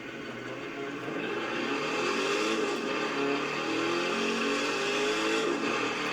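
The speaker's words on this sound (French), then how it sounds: "on peut voir qu'il va déjà beaucoup plus vite à l'accélération que d'origine" Ford Raptor 4x4 accelerating in The Crew 2 racing game: a continuous engine roar that swells after the first second and holds loud and steady, with rising harmonic tones as it gains speed.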